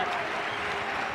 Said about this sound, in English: Bob Woolmer and the rest of the team on their feet to applaud his third one-day international 100